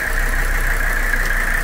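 Cold diesel engine of a worn 1984 Mercedes 300D W123 idling during a blow-by test, a steady close mid-pitched clatter and hum with a persistent whine, alone and without talk.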